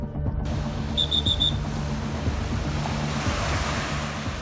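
Strong sea waves roll onto Karasu beach, a broad continuous surf wash with steady low rumble and wind, loud and close, with a brief faint high beeping tone near the start.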